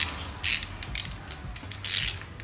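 A thread tap turned slowly back and forth in a head stud hole of a Subaru EJ257 engine from a 2016 WRX STI, giving a series of close, dry ratcheting clicks and creaks in short bursts.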